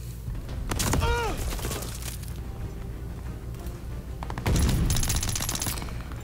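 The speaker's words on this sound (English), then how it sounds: "Free For All and using my newly upgraded machine pistol" Machine pistol with an upgraded 40-round magazine firing in a Free For All match of Call of Duty: Vanguard, two loud rapid bursts about three seconds apart with game sounds and a voice-like chirp between.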